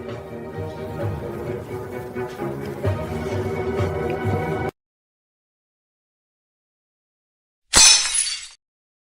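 Glass shatters in one loud, sharp crash with a bright tinkling spray that quickly fades, coming after several seconds of near silence that follow a stretch of busy room background.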